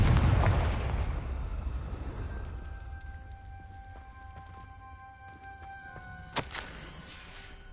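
A Confringo fire-blast spell in Hogwarts Legacy sets off a deep, loud explosion that rumbles and fades, followed by quiet sustained musical tones and a couple of small thuds.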